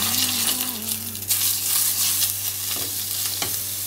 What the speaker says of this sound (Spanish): Ahora esto va a ir a la sartén a cocinarse.